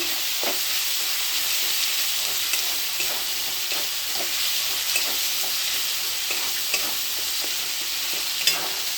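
Spice masala fries in oil in a pan, giving a steady, moderate sizzle. Occasional soft clicks and scrapes from stirring come through at close range, with no voices.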